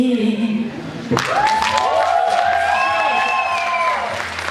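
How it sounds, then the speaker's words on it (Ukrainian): An audience at a KVN comedy league show applauds a song, a sustained wash of clapping and crowd noise while a voice speaks over it and some whistling tones sound in the middle. "Аплодисменти цій чудовій пісні."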